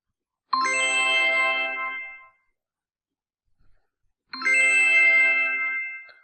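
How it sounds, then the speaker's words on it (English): A phone app alert for a new food order chimes twice, each a bright, close ding-dong tone lasting about two seconds, separated by silence. "I'm getting direct alert from my phone."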